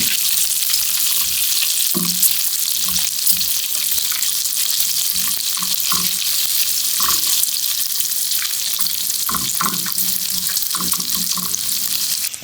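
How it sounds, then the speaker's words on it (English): Bacon frying in a pan for carbonara, a loud continuous crackling sizzle with scattered pops and spits throughout, no talking. "our bacon is nice and crispy. Our fat has been rendered"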